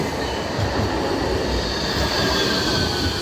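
A Nottingham tram passes with a steady, loud rail rumble and a hint of wheel squeal throughout, with no voices.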